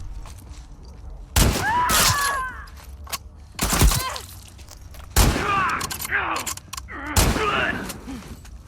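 Gunfire in The Last of Us Part II video game, several separate loud bursts spaced a second or two apart, with game voices and other sounds between the shots.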